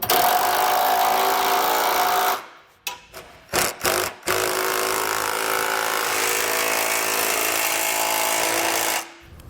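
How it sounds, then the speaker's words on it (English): Metal ratcheting and clicking from a 19mm socket and wrench snugging down bolts on a Roadmaster Direct-Connect base plate kit on a 2013 Ford, with steady broadband noise and a few short bursts in the middle. "come back and snug it down using 19mm socket and wrench"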